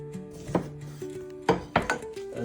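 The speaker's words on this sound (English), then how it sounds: "I'm going to cut a lime" A knife cuts through a lime on a board, with a few distinct knocks of the blade hitting wood among softer rubbing sounds, close and clear, no talk.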